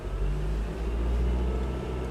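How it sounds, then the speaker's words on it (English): A manual-transmission car pulls away from a stop, its engine rumbling steadily and rising slightly in revs as the clutch is let out, close and continuous for about two seconds. "Give gas. Clutch comes up."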